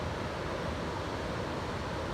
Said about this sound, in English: That's a nice gradual waterfall there.